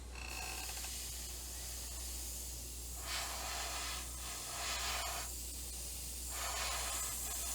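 A spray can lays a light third coat of primer onto a model, in three soft hissing bursts of a second or so each, separated by quiet gaps over a low steady hum.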